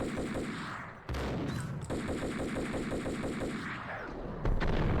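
Rapid bursts of gunfire ring out in the 2001 video game Max Payne on Xbox: dense, close, repeated shots with short pauses between volleys, and no talking.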